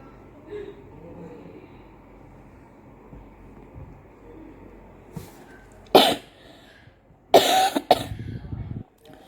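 A teacher who is unwell coughs during an online session, with quiet background murmur and then three loud, harsh coughs close to the microphone near the end.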